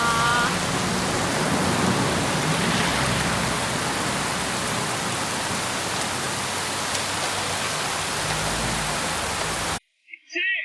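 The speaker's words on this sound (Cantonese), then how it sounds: "仲有幾耐先停雨啊？" Heavy rain falls during a rainstorm warning, a loud, steady, even hiss that fills the scene, then cuts off abruptly near the end, leaving a brief voice.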